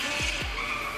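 Car drifting on a road, two quick tire squeals sweeping downward in close succession over a steady engine roar, loud and near.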